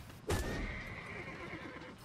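A horse in a Napoleonic Wars game lets out one loud, fairly close whinny that trails off over low battlefield rumble and faint hoof clatter.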